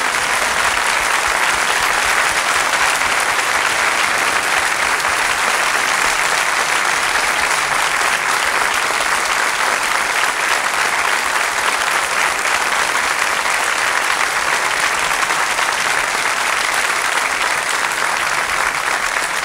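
A studio audience at a Turkish art music program applauds to welcome a singer. The dense, even clapping stays loud and unbroken throughout, and no one speaks over it.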